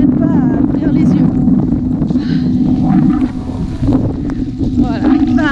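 Strong wind and rain buffet the microphone in a loud, steady roar during a rainy marathon in Cognac, with a runner talking breathlessly over it.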